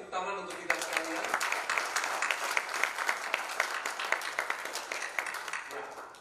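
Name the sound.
applause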